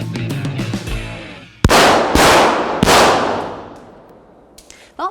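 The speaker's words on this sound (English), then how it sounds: "when you walk in, you should expect people to be shooting" Three loud, sharp gunshots ring out at an indoor shooting range, each with a booming echo that decays in the enclosed space, following a brief stretch of low rumbling.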